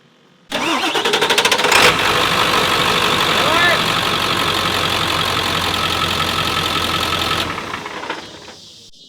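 Diesel truck engine cranking over and catching off a compact NOCO jump starter, then settling into a loud, steady knocking idle close by before it is shut off, with a voice heard briefly.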